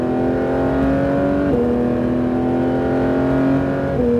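Porsche GT3 engine accelerating hard on a race track, a loud, constant droning roar with pitch rising steadily and two quick drops at gear changes, heard without talk.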